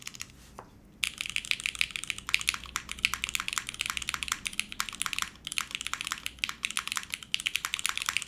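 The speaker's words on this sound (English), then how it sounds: "Let us see what we are gonna get with the carbon fiber plates," Mechanical keyboard with a carbon fiber plate and Cherry stabilizers, typed on steadily after a brief quiet start; dense, crisp clacks and taps come close up and fairly soft, with no talking.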